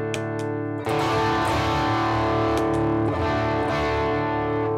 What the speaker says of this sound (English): now I could add a little bit of overdrive here.